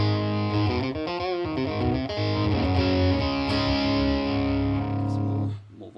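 Electric guitar through a Boss Metal Zone distortion pedal with the distortion turned down plays a few sustained, buzzing chords and single notes, loud and close, before the notes cut off near the end.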